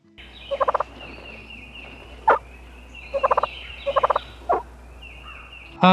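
Turkey calls imitating a hen: bursts of quick yelps repeated in short series, with sharper single notes between, loud and close, no talking.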